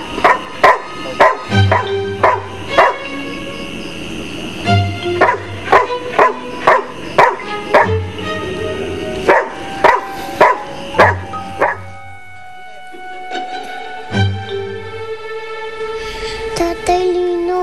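A dog barks in repeated sharp bursts, close and loud, in quick runs separated by brief pauses, with some whimpering yips, and voices talking around it.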